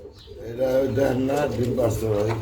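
Iranian pigeons coo in low, rolling murmurs, close by, with a voice speaking over them.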